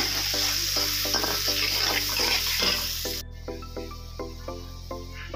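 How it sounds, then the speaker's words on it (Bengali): Chopped onions frying in oil along with a blended spice paste for a coconut chicken bhuna, a constant close sizzle with spatula scrapes, accompanied by a steady rhythmic musical tone. "পেঁয়াজটা ভেজে নেব"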